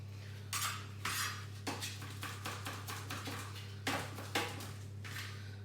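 A kitchen knife being put away among cutlery, heard as a series of close metallic clinks and rattles in short bursts over a low steady hum.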